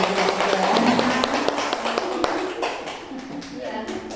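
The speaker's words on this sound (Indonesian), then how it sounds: "Kita beri tepuk tangan Bapak Ibu." Sparse, scattered hand claps from a small audience of teachers and parents at a school gathering, fairly close and soft, mixed with murmuring voices, with the clapping thinning out toward the end.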